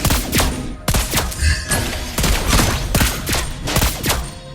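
Lesley's gun fires in the Mobile Legends: Bang Bang video game during a ranked match, with loud, close, booming shots coming in rapid repeated bursts that nearly fill the whole stretch.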